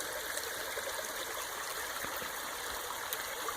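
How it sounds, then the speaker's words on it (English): A small creek in Tannery Creek Canyon, Sonoma County, California, trickles and babbles steadily nearby, a continuous, even wash of water with no voices over it. "So I'm going to step across this little creek here"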